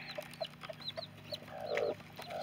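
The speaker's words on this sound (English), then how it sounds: "We've also got a broody hen in here." A broody hen sitting on eggs in a farm coop gives a steady series of short, close clucks, rising into a longer, louder grumbling call toward the end.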